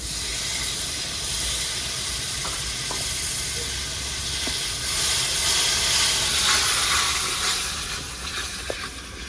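Paste made from four medium tomatoes hits a hot pan during fish curry cooking, setting off a steady, loud hiss and sizzle that lasts throughout with a few faint clicks and no speech.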